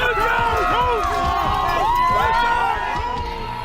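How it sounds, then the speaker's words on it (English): A large crowd greets the Buffalo Bills on their return home after a bitter loss in Jacksonville, cheering and shouting for head coach Sean McDermott; many overlapping voices in a loud, continuous roar of yells and whoops. "A large crowd greets the Bills, shouting thank you to head coach Sean McDermott as they return home from a bitter loss in Jacksonville."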